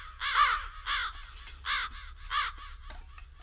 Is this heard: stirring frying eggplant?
no